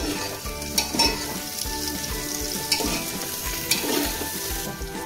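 Cut potato frying and being stirred in a pan for chicken sukka, with a steady close sizzle broken by repeated scraping strokes of the spoon, no voices.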